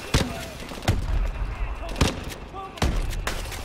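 A gun firing repeatedly in the Call of Duty: Advanced Warfare game, four sharp, punchy shots spaced about a second apart over a low rumbling background.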